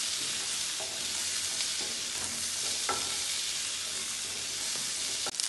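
Shallots, garlic and coriander sautéing in a pan, a steady close sizzle with occasional stirring scrapes and a sharp clack near the end, no talking.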